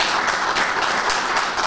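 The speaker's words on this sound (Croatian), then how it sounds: "Još jedan aplauz za Suada" An audience at a book promotion in Zenica applauds Suad loudly, a dense, steady wash of clapping from many hands filling the whole moment.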